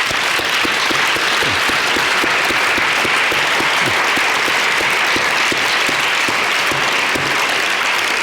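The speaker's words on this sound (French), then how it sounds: "Merci Cynthia, on va les applaudir si vous voulez bien." An audience at a French talk on imaginary futures claps in a dense, steady round of applause that fills the whole stretch and stays loud and even from start to finish.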